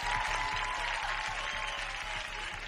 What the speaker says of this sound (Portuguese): Palmas para o Ricardo Nunes.